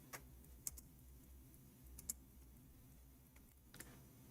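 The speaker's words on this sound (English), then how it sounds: "we are typing in English again." Sparse, quiet keyboard taps: a few isolated clicks spaced seconds apart over a low background hum, no voices.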